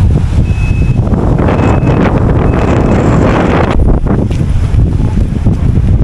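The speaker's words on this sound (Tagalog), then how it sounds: "Medyo malakas yung hangin." Strong wind roars continuously into the microphone on a seaside land tour of Boracay, loud and buffeting with no voices over it.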